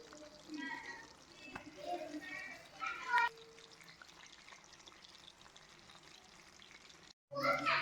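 Chicken thigh leg pieces fry with masala on a low flame, making a faint, soft sizzle beneath a talking voice, with a brief drop-out just before the end.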